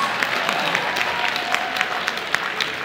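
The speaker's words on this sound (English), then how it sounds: "Give him a round of applause." An audience at an anime convention cosplay blind-date stage event (Eirtakon 2014) gives a round of applause, steady dense clapping from many hands sustained across the whole moment.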